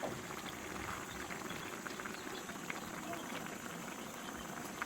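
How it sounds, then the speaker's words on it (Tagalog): Steady bubbling and hissing of vegetables at a rolling boil in a covered pot, continuous and fairly close, with no clear break. "Malapit na guys yan kumukulo na."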